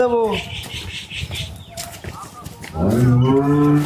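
A dairy cow gives a loud, drawn-out moo, then a second long moo near the end, with people chattering in a busy outdoor cattle market between.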